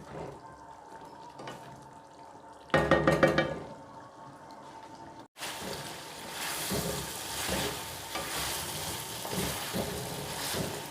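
Chicken karahi with tomatoes and green chilies frying in a pan, Peshawari style: a steady sizzle and bubbling with a louder burst of stirring partway, then a busier, denser frying hiss that continues to the end.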